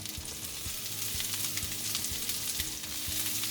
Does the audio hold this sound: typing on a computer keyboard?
no